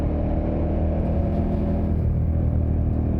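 KTM 1290 Super Adventure motorcycle riding a mountain road on Corsica, a steady, loud engine rumble with wind noise that holds without a break throughout.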